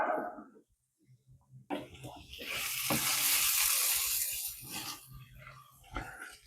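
Chicken pieces browning in hot oil in a pan for chicken cacciatore, a brief quiet pause then a loud, bright sizzle that swells and slowly settles, with occasional clatter.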